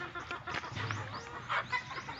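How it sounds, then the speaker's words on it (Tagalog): Chickens clucking at a poultry farm, a steady jumble of short clucks and crowing calls close by, fairly loud with no talk. "Videohan natin yung mamahaling manok ni pare."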